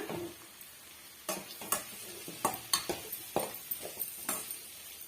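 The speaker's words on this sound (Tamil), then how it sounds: "உருளைக்கிழங்கு சேர்த்துன பிறகு ஒரு நிமிஷத்துக்கு மட்டும் நீங்க வதக்கி விட்டுக்குங்க." Potato pieces being sautéed in a pan for a snake gourd snack stuffing: a quiet sizzle with repeated sharp spatula scrapes and taps against the pan, rhythmic and close, no voices.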